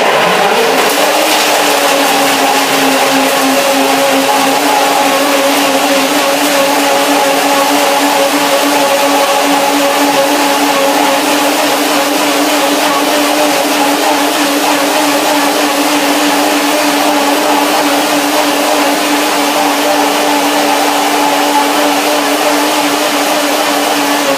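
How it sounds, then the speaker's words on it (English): A blender whirs continuously and loudly at high speed, pureeing banana, hazelnut and lemon into a dressing, a steady motor drone with no pauses and no voices. "Let's see the blender dance."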